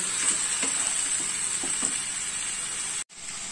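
A spoon stirs palak paneer in a pan with tomato paste and salt, producing a steady close sizzle with soft, repeated scraping strokes and a brief interruption near the end.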